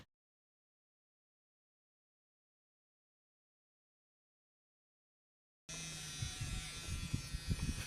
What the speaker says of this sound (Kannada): ಮಿಷನ್ ತೊಗೊಂಡು ಸ್ಟಾರ್ಟ್ ಮಾಡಿದೆ ತಲೆ ಎಲ್ಲ ಕೂದಲ ತೆಗಿಯಕ್ಕೆ